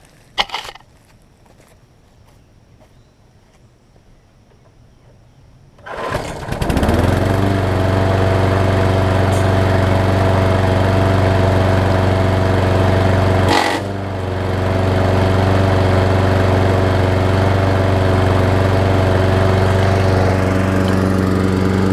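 A 5 hp Briggs engine mounted on a Weed Eater mower deck starts after a few quiet seconds of handling, then runs loud and steady at a close range, briefly dipping once midway before it continues at full roar.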